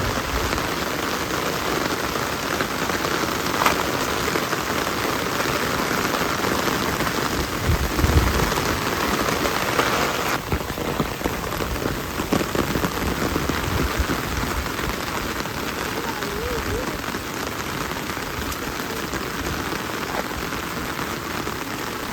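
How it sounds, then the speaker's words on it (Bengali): Steady rain pattering on surfaces, dense and continuous throughout, fairly close, with no one speaking. "বৃষ্টি একটু কম কম আছে, খারাপ না বৃষ্টি।"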